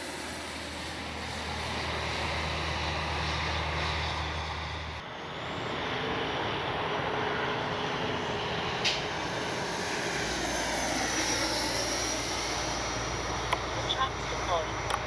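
A radio-controlled model jet in Baltic Bees colours roars steadily overhead with its afterburner lit, a continuous loud turbine rush lasting throughout, with a voice speaking over it.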